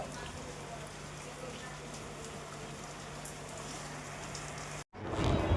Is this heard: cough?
no